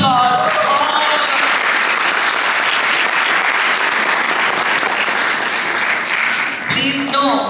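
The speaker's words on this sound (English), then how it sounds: "A very big applause to all of you." Sustained, loud applause from an audience at a community fundraiser after the target is reached fills the hall evenly, then fades near the end as a voice begins.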